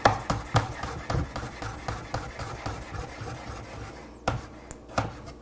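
A kitchen knife sharpened while making nachos, a run of rhythmic scraping rasps repeating steadily for several seconds, close and fairly loud, then a few slower separate strokes at the end.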